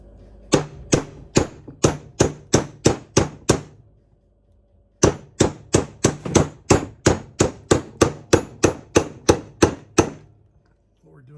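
A big socket is hammered to drive a seal into a Dana 18 transfer case: a run of about nine sharp metallic strikes, a short pause, then a steadier series of roughly seventeen evenly spaced ringing blows.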